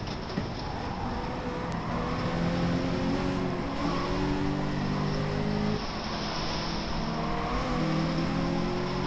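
A steady engine drone hums in the background throughout, with a continuous low tonal rumble that shifts pitch slightly, and no voices.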